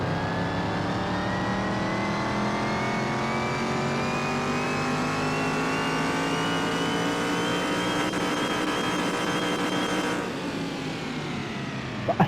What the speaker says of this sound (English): It's gonna be bouncing off the rev limiter very fast.